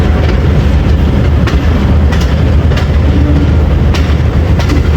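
A train rumbles steadily along a sharp curve near Kharia railway station, a loud, continuous close-up roar with rhythmic wheel clatter and faint metallic clicks throughout, no voices.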